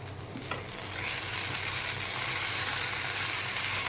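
Okra frying with chopped onion in a pan on the stove, stirred through a steady, close sizzle that holds at an even level with faint scraping as it is turned.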